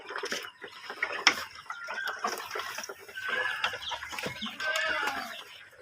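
Tiger-breed chickens cluck and chatter nearby while they wait to be fed moringa leaves, with irregular overlapping calls and a few sharper squawks.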